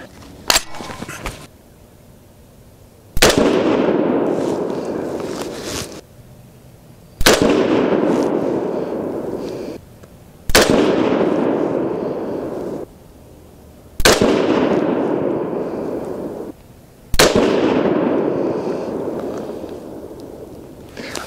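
Five loud, sharp gunshots from a custom Grey Ghost AR10 rifle firing handloaded .308 Win rounds with 155-grain Lapua bullets at a target. The shots come several seconds apart, each followed by a long ringing echo that fades off.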